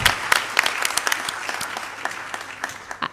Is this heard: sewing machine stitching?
no